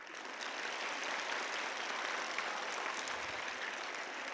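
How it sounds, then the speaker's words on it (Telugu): Applause from a workshop audience fills the room, dense and steady at an even loudness from start to finish, with no voices rising above the clapping. "కొట్టండి చప్పట్లు"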